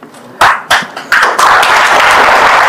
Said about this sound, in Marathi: टाळ्या वाजवण्याची काय गरज नाही.